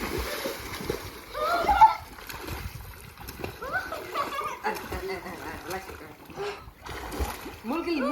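A young child splashing in a swimming pool, with scattered irregular splashes and sloshing water close by, while an adult talks and the child laughs and chatters throughout.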